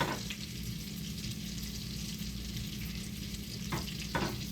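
Onions sizzle in a frying pan for burgers, a steady close hiss throughout, with a couple of brief stirring or scraping sounds near the end and no voices.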